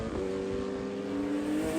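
Race cars on the FARA Miami Grand Prix circuit produce a steady engine drone with a rising whine as they dive back into the infield, heard at a distance without talk.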